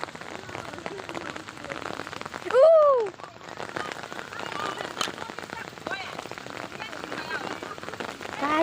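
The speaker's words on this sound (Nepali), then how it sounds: "हेर्नुहोस् न कत्रो पानी आयो अझ फेरि" Heavy rain pours down steadily in a dense, continuous hiss throughout, with a short rising whistle-like sound briefly cutting in partway through.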